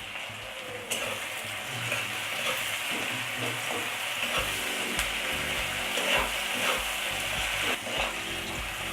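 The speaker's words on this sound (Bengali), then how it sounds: "এই দেখুন আমার পেঁয়াজ ভাজাটা হয়েই এসেছে।" Onions fry with salt in a pan, a close continuous sizzle broken by repeated scraping and stirring strokes, with no speech.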